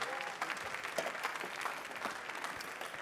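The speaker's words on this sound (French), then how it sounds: "Vous pouvez l'encourager, allez, on l'applaudit bien fort." Spectators at the 2016 World Latte Art Championship France final clap for a competitor, a fairly faint but steady spread of many hands applauding from across the room.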